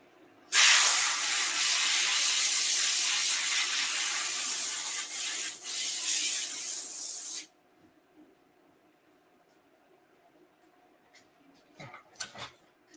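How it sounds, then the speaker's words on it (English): An air hose blasts dust off dry-brushed laser-engraved bricks in a loud, close hiss lasting about seven seconds. Quiet shuffling and a few soft knocks follow. "We try just dry brushing it and blowing it off with the air hose."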